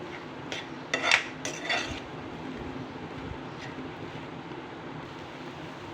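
A spoon scrapes and clinks around a pot of bottle gourd milk kheer with sago, a few sharp metallic knocks early on, then softer stirring over a low simmering hiss.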